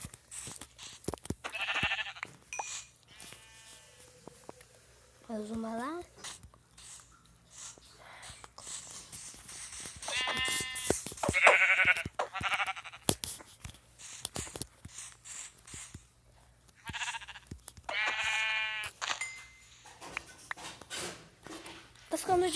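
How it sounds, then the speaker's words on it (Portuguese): Sheep in Minecraft Pocket Edition bleat several times in short wavering calls spread across the stretch, mixed with game sounds and occasional talking. "Uma ovelha. Ah, aqui tem muita ovelha."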